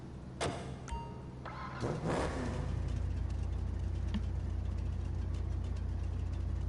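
In Grand Theft Auto Online, a custom 1930s Ford drag car's engine fires up and settles into a loud, steady rumbling idle with a lumpy, choppy beat, after a few sharp revs at the start.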